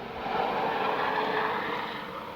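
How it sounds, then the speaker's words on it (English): A helicopter flying low overhead makes a loud, continuous roaring drone that swells and then eases slightly, with no other sounds alongside. "There's a helicopter going over us right now."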